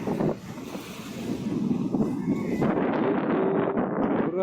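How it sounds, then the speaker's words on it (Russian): Wind blows across a shell-rock beach on the Sea of Azov near Dolzhanskaya, a loud buffeting rush against the microphone mixed with surf, with no talking. "Ветер дует."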